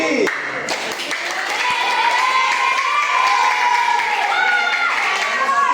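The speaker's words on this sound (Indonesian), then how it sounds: "Tepuk tangan lagi sekali." Primary school children in a sixth-grade classroom clap and cheer together, a busy burst of mixed claps and shrill young voices shouting at close range, filling the room steadily throughout.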